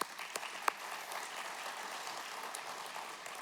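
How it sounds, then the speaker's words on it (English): Audience applause at an energy summit, moderately quiet and steady, with a few sharper individual claps standing out early on. "Let's please give them all a round of applause, if we could."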